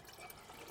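Water pours into a cooking pot for soup at a forest campsite behind a car, a short, steady, faint splashing trickle.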